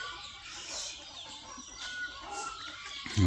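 Native country hens on a farm clucking softly in short scattered calls, faint and somewhat distant, with a sudden louder knock near the end.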